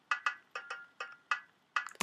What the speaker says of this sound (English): The tabla hits are typical instruments from the Middle East